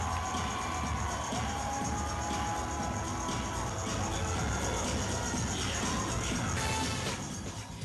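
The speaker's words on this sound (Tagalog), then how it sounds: "dumagundong ang sigawan ng mga manunood" A dense crowd roars with shouting and cheering throughout, the din steady and loud, as spectators react at a tricycle driver beauty contest in Solano, Nueva Vizcaya.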